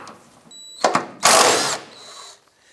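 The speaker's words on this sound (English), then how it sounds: "You're going to use our 12 millimeter deep socket to remove the four nuts supporting this here" A 12 mm deep socket on a tool removes rust-penetrant-sprayed nuts from a cross brace on a 2007-2012 Nissan Versa's exhaust. Two short close bursts with a faint whine come first, then one longer, louder grinding burst that fades.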